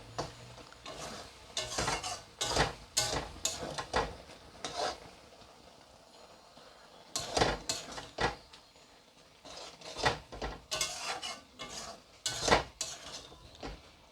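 A spoon scrapes and clatters against a pan while jute leaves with moong dal are stirred, irregular bursts of metallic knocks and scraping with quieter gaps and a faint sizzle beneath.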